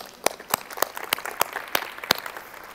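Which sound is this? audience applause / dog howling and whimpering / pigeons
audience applause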